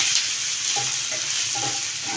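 Sliced okra (bhindi) sautés in a pan for a dry subzi, with a constant sizzle under a few scraping stirs of a spoon and no talking.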